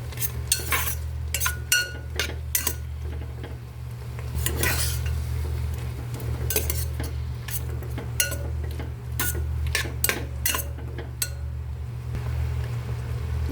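Sautéed tomatoes and onions stirred in a pan with a utensil, irregular clinks and scrapes against the metal over a steady low hum of cooking, no talking.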